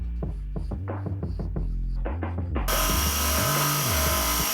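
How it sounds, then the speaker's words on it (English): A handheld power grinder used while making a bollock dagger cuts in abruptly after a low, wavering, throbbing hum, then runs as a loud, steady, hissing whine to the end. "I think it's time to move away from the mechanized grinding tools and move to the handheld ones."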